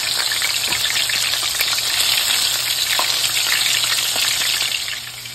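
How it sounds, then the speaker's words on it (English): Chicken strips fry in canola oil with a steady, loud, dense sizzle and crackle that holds throughout, easing slightly at the very end. "And I'm cooking it in a light oil. I'm cooking it in a canola oil, not olive oil."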